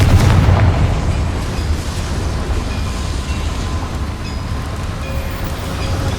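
Confringo fire spell blasting in Hogwarts Legacy inside a boiler-filled chamber: a heavy booming explosion up front that settles into a sustained low rumbling roar, loud and without speech.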